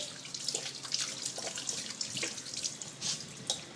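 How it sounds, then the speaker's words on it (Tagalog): Tap water runs steadily over hands being rinsed at a sink after soaping, a continuous close splashing hiss with small irregular splatters throughout. "Manlawan ko na ng tubig."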